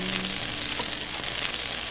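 Pork and onion pie frying in a covered electric griddle pan, giving a steady close hiss of sizzling fat throughout with no talk.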